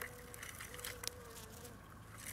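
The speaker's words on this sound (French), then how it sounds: "En tout cas, les abeilles viennent vraiment butiner." Bees foraging on fine-flowered heather on a September evening, a faint, thin insect buzz drifting close by over quiet outdoor background.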